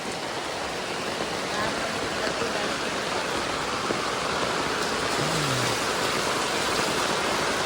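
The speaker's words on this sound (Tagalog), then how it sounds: "Lumakas po lalo yung ulan mga kalingap." Heavy rain pours steadily onto a tarpaulin as a dense, continuous hiss, with no gaps or clear individual drops. Nothing else stands out above the wash of rain.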